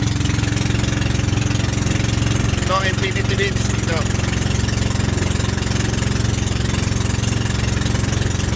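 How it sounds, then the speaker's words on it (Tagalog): A boat motor drones steadily and loudly on a calm sea, its pitch climbing slightly as it revs up, with someone talking over the engine. "tila siyang bumibilis konting lumalakas, lumalakas ang ulo ng motor yan"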